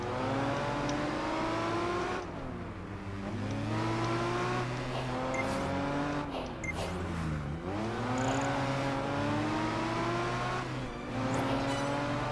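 Race cars in the Project Gotham Racing 4 video game roar continuously, engines revving up and down through gear changes with brief tire squeals, loud and steady throughout, no talk.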